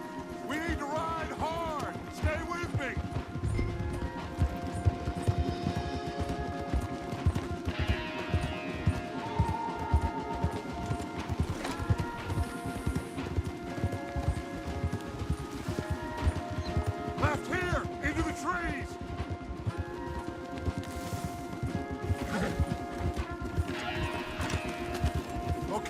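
Horses gallop in Red Dead Redemption 2, a dense, continuous drumming of hoofbeats under game music and occasional voices, steady and loud throughout.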